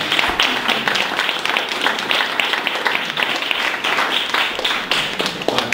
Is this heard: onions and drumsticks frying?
no